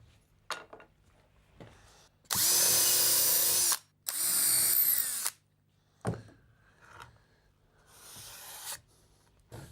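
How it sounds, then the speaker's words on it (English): Power drill pre-drilling holes into tongue and groove boards while building a dining table: two loud, sustained bursts of whirring drill noise, each lasting a second or more, separated by a short pause, with quieter knocks and handling sounds before and after. "we just want to pre-drill a hole so it aims about the centre of each one of these tongue"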